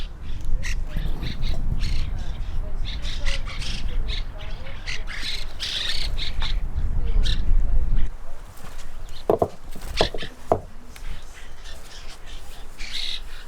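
Birds squawk repeatedly at a spot along the Pacific Crest Trail in the Sierra, their harsh calls sounding fairly close and mixed over a steady outdoor rumble that drops away partway through.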